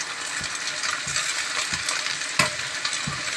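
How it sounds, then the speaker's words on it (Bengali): Ginger and onion fry lightly in a pan, a soft steady sizzle broken by a few sharp clicks and taps from stirring, with no one speaking. "হালকা হালকা ভেজে নেব।"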